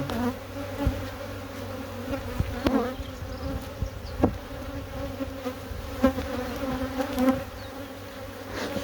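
Honeybees buzz steadily at an opened hive early in spring, a dense, continuous droning swarm with a few sharper close passes of individual bees.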